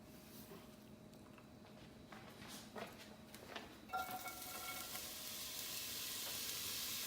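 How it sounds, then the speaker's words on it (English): Chopped onion and garlic sizzling in a little olive oil in a large pot, a steady frying hiss that swells and brightens partway through as the pieces hit the oil, with light clinks and stirring. "Okay, so we cut up the garlic and the onion, we're ready to fry it."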